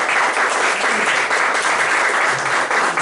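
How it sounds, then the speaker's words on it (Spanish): A church congregation applauding, a dense, loud, steady burst of clapping throughout, no talking. "¿Le pueden dar una ofrenda de palmas al Señor?"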